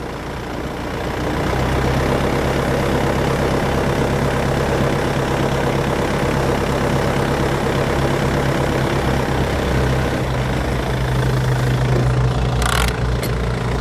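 A tractor engine idles steadily and close by with a low, even rumble and a constant drone, running without a break from start to finish.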